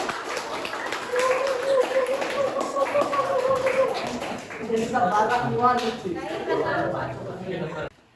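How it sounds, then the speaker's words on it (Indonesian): Audience clapping for a group that has just closed its classroom presentation, a dense patter of hands running steadily for several seconds under loud overlapping chatter and voices, then cutting off abruptly at the end. "Oke, tepuk tangan."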